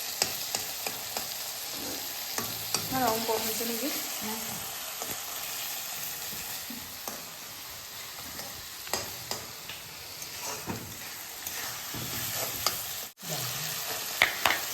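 Curry frying and being stirred in a pan for an Assamese home-style chicken curry, a steady close sizzle broken by scraping stirs, with someone speaking briefly over it.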